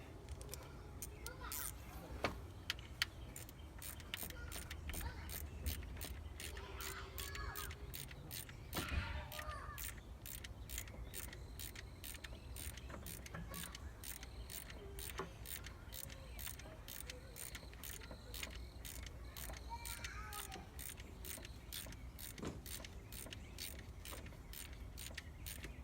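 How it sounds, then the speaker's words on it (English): A ratchet clicks in a long, steady run of rapid ratcheting as it tightens a camshaft position sensor on a 2004 Ford F150 5.4, heard up close with faint talking. "Then we'll get our ratchet and finish tighten it."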